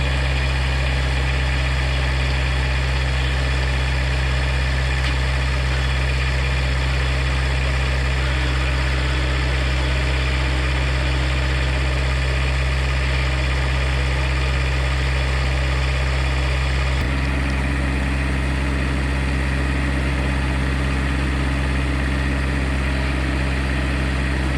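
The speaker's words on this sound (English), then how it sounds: "I like to crank it up and run that motor back and forth" The engine of a custom-built diesel zero-turn mower runs steadily with a loud, close, continuous droning rumble, shifting slightly in tone partway through as the hydraulic motor is run back and forth.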